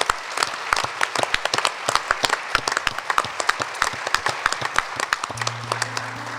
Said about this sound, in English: So I want to give a round of applause for Mark Harrison, a life well lived.